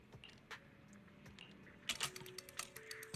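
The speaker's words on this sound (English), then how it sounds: "can hear the sounds of Wise typing on the keyboard downstairs" Keyboard typing in the video game Zenless Zone Zero, heard from downstairs: faint, irregular key clicks over a quiet background, with a brief denser burst of tapping toward the end.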